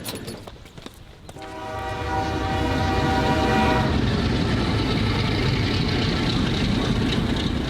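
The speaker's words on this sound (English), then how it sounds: "So back on the train, going to Nairobi" Passenger train running toward Nairobi, Kenya, with a sustained horn blast over a steady, loud rumble of rolling wheels and rail clatter that carries on after the horn stops.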